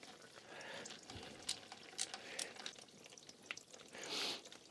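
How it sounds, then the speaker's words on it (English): Residual fuel drains in a faint trickle and drip from an oil boiler's deaerator pump into a containment bucket, quiet liquid splashing with a few sharp metallic clicks and taps, no talk. "there will be some extra residual fuel draining out of the deaerator"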